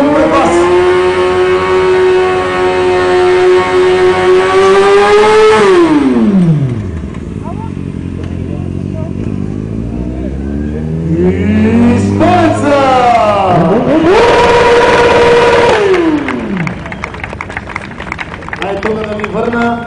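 Drift cars at a drift show rev hard in long rising and falling engine sweeps, loud and close, with two big bursts of throttle separated by quieter idling and shifting.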